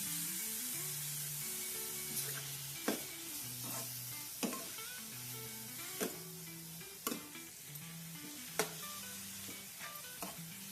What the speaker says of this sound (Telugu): మనం ఇలాగే కొంచెం అప్పుడప్పుడు కలుపుకుంటూ నెమ్మదిగా ఫ్రై చేసుకోవాలి మీడియం ఫ్లేమ్లో